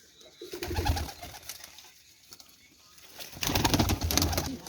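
Pigeons kept by a flying-pigeon breeder coo and flutter nearby in two louder bursts separated by a quieter stretch, with low throaty calls and some wing or movement noise.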